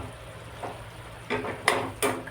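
Onion and tomato cooking in a pan over medium gas, a soft steady sizzle with a few brief stirring scrapes and clinks rising above it near the end.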